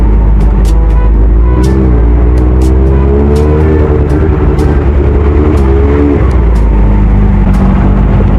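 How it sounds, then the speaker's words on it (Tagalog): Heavy road traffic heard from a Honda CB400 Super Four motorcycle, a loud continuous engine drone with rising and falling revs, brief sharp clicks and hisses from surrounding vehicles, and a close rumble throughout. "Traffic pala talaga dito, grabe."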